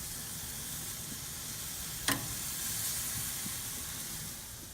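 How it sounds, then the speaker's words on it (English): A steak sears on a hot grill with a soft, continuous hiss and sizzle, broken by one sharp crackle partway through. "we have seared the steak on both sides and have triggered the Maillard reaction"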